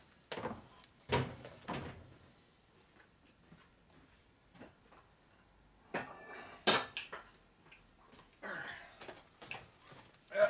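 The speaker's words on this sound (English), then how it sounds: "That noise is pressing on the bearing over the shaft." A bearing is pressed onto the shaft of a 1992 Harley-Davidson 80-cubic-inch Evo motor being rebuilt, making irregular metallic clunks, scrapes and creaks at close range, with quiet gaps between the bursts.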